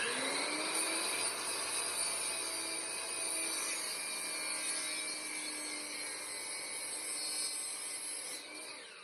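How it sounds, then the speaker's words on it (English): A saw cuts a piece off a 1x2 wooden board, a steady, fairly loud high-pitched whine with the blade biting through wood for several seconds before trailing off at the end, no voices. "let's go ahead and cut this piece out"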